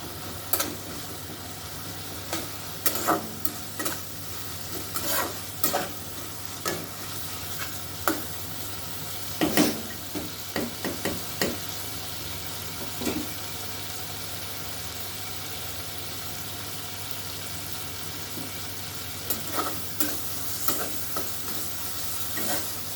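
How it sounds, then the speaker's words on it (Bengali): Spice masala sizzles in oil over raised heat for a Bengali fish dish, a steady soft frying hiss with scattered clicks and stirring scrapes against the pan throughout. "আঁচটাকে একটু বাড়িয়ে দিলাম, বাড়িয়ে এটাকে একটুখানি হতে দেবে, মশলাটাকে একটু হতে দেবে।"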